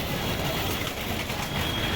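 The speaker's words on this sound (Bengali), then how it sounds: "এখন চলে আসলাম কমলাপুর রেল স্টেশনে" Busy ambience at Kamalapur railway station in Dhaka with a train rumbling nearby, a dense steady wash of mechanical noise and no speech.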